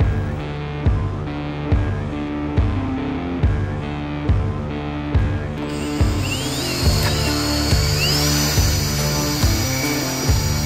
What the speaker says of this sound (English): Use a drill stop to ensure you do not drill into your tire.